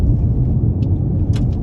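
A 2022 Toyota C-HR XLE pulls away from a stop, its engine giving a steady, heavy low rumble from inside the cabin with a few faint clicks over the top.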